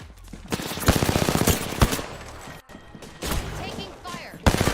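Gunfire rattles in Apex Legends: rapid automatic bursts and sharp single shots come close and loud in several clusters, with a player talking over the fighting.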